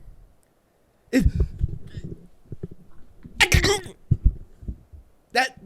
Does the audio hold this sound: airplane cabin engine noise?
no